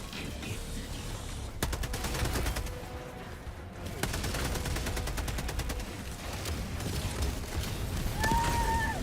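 Rapid bursts of automatic gunfire from a firefight in the video game Helldivers II, with sharp repeated volleys over a dense, rumbling battle background and a brief high tone near the end.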